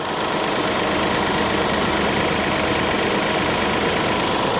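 A 2017 Kia Sedona's engine idles steadily after an engine replacement, with the AC compressor spinning, giving a constant close mechanical hum and whir with no talk.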